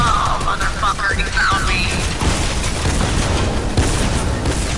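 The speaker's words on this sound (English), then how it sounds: "I died by the explosion of the brute" A brute exploding in a video game, heard as a dense booming blast amid rapid gunfire and crashing effects, loud and continuous throughout the short stretch.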